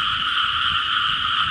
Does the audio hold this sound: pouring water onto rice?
no